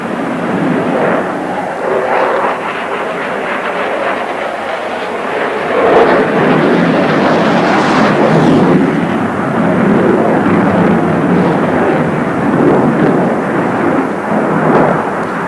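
An F-15 fighter jet roars past at the Biggin Hill air show, a loud, continuous broadband jet rumble that swells and holds steady across the pass with no voices over it.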